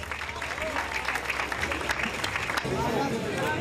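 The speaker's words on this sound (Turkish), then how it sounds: "Onlara da lütfen kocaman bir alkış." Audience applause at the Shop&Miles Bosphorus Cup 2007 sailing race award ceremony: a steady, dense wash of clapping from a crowd, with voices talking over it toward the end.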